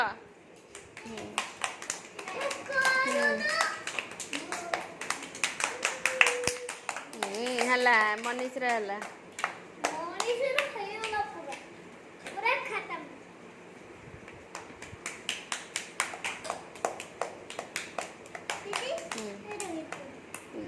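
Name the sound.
children clapping hands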